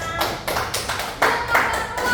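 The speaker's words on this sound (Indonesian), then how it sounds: "Tepuk tangan dulu buat kita semua." A small classroom group claps in short, uneven bursts, with individual hand claps standing out close by and a little talking mixed in.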